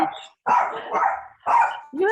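Dogs bark in a few sharp, close, loud bursts with pauses between them, and a whimper or yip near the end; no one speaks during it.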